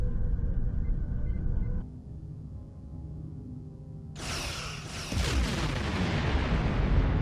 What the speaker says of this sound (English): Target that ship and fire all weapons.